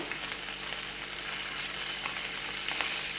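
Chicken cheese seekh kebabs fry in a pan over medium-low flame with a dense, steady sizzle and faint crackles, close up and without any talk.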